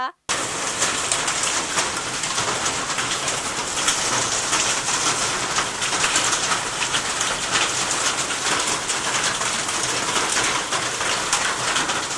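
A heavy rain and hail storm pours down in a dense, steady hiss that stays loud and close without a break, with faint bird cooing underneath.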